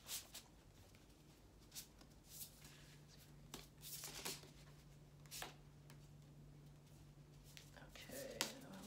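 New tarot cards are shuffled in soft, scattered riffles and brushes, faint and close, with quiet pauses between bursts and a low hum underneath.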